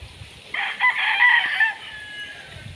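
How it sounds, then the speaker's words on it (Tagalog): A rooster crows once, a long, loud, bright call lasting over a second, with faint farmyard background around it. "Marami pa pong manok din sa amin guys."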